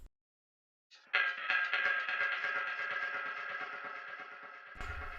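Metallic techno sample run through a ping pong delay, a bright rhythmic stream of clanking hits with echoes smearing them into a sustained, spacious tail, alone with no voices.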